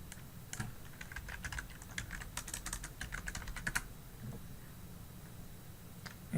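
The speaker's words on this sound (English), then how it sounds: "so we can type in windmill." Computer keyboard typing in quick irregular bursts of clicks, fairly close, going quiet after a few seconds with no talking.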